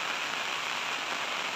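Heavy rain pours steadily in the Philippines, a dense, loud, even hiss with no breaks, like a downpour that has lasted through the night on a vegetable plot.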